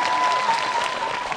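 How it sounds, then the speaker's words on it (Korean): An audience claps loudly and densely in a short, steady burst at a televised debate. "저 박수 받았어요."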